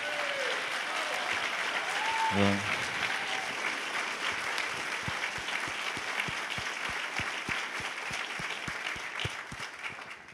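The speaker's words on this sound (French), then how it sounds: "si vous voulez leur redonner des applaudissements" Audience applause at a French talk, a steady dense wash of clapping from a large crowd that holds through the whole stretch, with a few sharper individual claps standing out and no speech over it.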